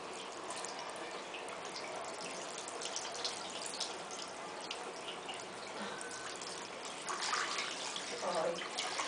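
Water running from a tap as an eight-month-old baby washes its hands, a quiet continuous trickle with soft splashes that grow louder near the end.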